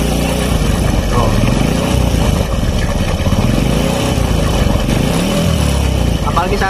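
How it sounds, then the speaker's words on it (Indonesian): A Honda Supra 100 motorcycle engine, its oil pump being checked, revs up to a higher RPM and holds a loud, rough, steady drone close by, with someone talking over it. "Kita naikin naikin RPM sedikit, dia akan mencrat nih ke sini."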